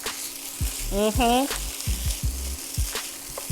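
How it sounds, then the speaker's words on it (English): Garlic and a knob of butter sizzling in a frying pan for oxtail fried rice, a close crackling hiss under a voice humming and short bursts of talk. "Just a little knob of butter in there."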